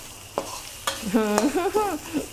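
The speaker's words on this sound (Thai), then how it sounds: "พอกระทะเริ่มร้อนจัดแล้วปรับเป็นไฟอ่อนๆค่อยๆผัดไปก่อนค่ะ" Dry southern Thai shrimp paste is stir-fried over low heat in a hot pan, with sharp spatula knocks and scraping strokes, squeaky tonal scrapes and a light sizzle, all close and steady.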